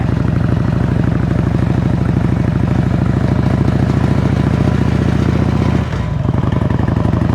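Harley-Davidson Road King on a test ride, a loud, steady, close-up V-twin engine throb that holds a constant pulsing rhythm and briefly dips near the end as gears shift.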